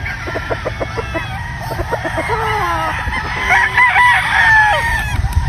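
Golden Boy gamefowl roosters on a large gamefowl farm crow and cluck loudly and close by, with several overlapping birds and a steady hum of farm background behind them.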